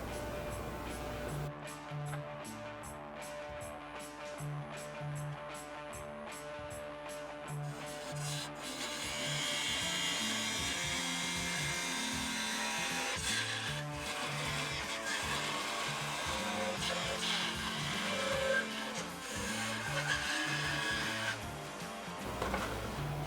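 A lathe spins a pear wood block while a parting tool cuts it off, producing a continuous low rumble with rhythmic chatter and scraping, moderately quiet, no speech.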